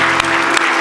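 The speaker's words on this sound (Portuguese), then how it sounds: "Eu gostaria de convidar você a dar um forte aplauso ao Senhor nessa noite." A church congregation applauds during a Sunday evening service, a dense, loud wash of clapping that fills a brief moment without pause.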